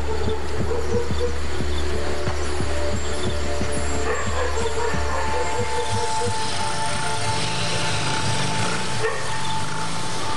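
Village dogs at the edge of India's Gir Forest bark together in alarm at a predator such as a leopard, with a string of rapid barks over a heavy low rumble that gradually loosens into a busier, mixed din.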